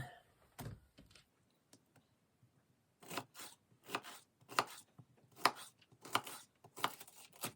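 A knife cuts through pineapple in a series of short, crisp slicing strokes, a few scattered at first and then a quicker run of close cuts, with no talk.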